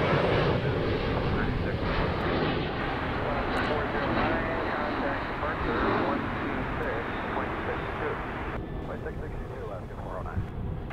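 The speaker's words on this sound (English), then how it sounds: "FedEx 767. They're arriving from Oakland." A FedEx Boeing 767 arriving at Chicago O'Hare, a loud, steady roar of jet engines filling the whole stretch, slowly easing toward the end, with no voices heard.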